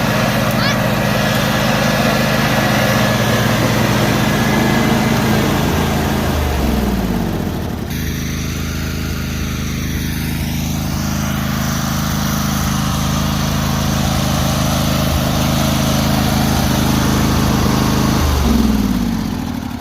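Loud, steady drone of a Cub Cadet Super LT 1554 lawn tractor engine mowing down an old garden nearby. The tone shifts partway through and then holds a constant rumble. No speech.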